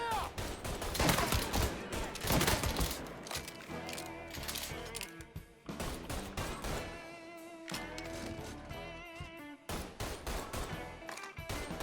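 Gunfire in the video game Mafia 3: dense bursts of rapid shots and a mix of game music and effects, loud and continuous with a few brief lulls.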